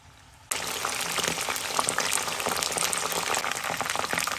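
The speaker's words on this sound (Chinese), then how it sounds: "这时候就把蘑菇放进来炸" Mushrooms drop into a pot of hot oil and it bursts abruptly into a loud, dense bubbling and crackling deep-fry sizzle that carries on steadily, with no voices.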